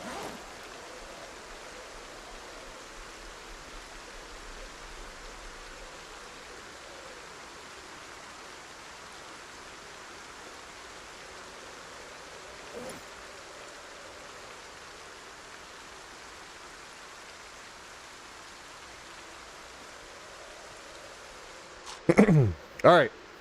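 Rain in a Project Zomboid rainstorm falls as a steady, even hiss for the whole stretch, with a couple of short, sharper bursts near the end.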